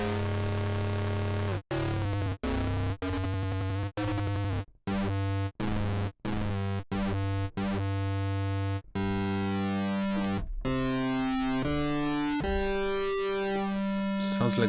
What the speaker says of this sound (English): one lead sound which I can play to you, which is essentially sounds like a distortion guitar